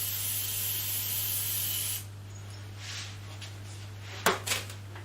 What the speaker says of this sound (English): And then I'm going to spray the inside of the bowl